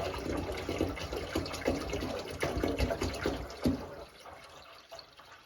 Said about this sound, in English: Just add some more water here.